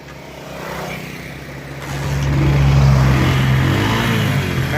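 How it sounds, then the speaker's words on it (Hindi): Push-started motorcycle catching and running, its engine hum building into a sustained rev as the throttle opens, loud and close, with no talk over it. "पहले उसने धक्का दिया है, बाइक चलने लग गई तो एक्सीलेटर पे हाथ रख दिया उसने"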